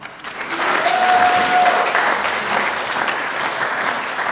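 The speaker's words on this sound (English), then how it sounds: "Give them a round of applause." Sustained audience applause for graduates at an Indigenous student graduation ceremony, steady and full for several seconds with a faint background tone, no talking.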